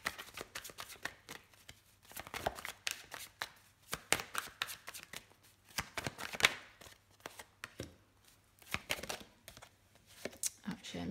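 Playing cards are shuffled and riffled by hand in repeated quick bursts of close papery flutter and snapping, with soft handling noises between them and a quiet voice talking now and then.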